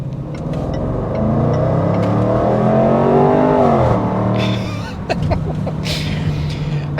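A supercharged V8 Range Rover Sport engine runs loud and close, its throaty rumble swelling with revs and then easing off into crackling exhaust pops.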